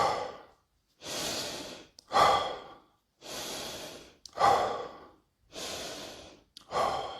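Deep recovery breaths after a set of exercise reps, close and audible: six or seven long, forceful inhales and exhales, each followed by a short silence.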